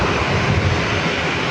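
An airliner engine roars loud and steady on landing approach near San Diego, a broad continuous whoosh with some wind buffeting and no voices.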